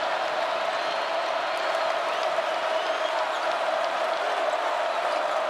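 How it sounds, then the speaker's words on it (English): A college basketball crowd at the Joel arena in Winston-Salem roars and cheers as it rises to its feet during Duke at Wake Forest, a dense, steady wash of arena noise. "Crowd to its feet at the Joel and Winston-Salem."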